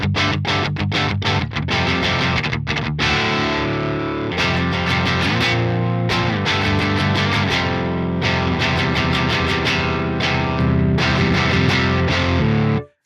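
Distorted electric guitar played through a Marshall amp simulation on the bridge pickup with the coil split, loud crunchy chords and rhythmic strummed riffs ringing continuously throughout.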